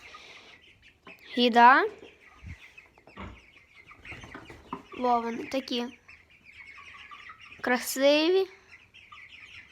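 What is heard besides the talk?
broiler chickens clucking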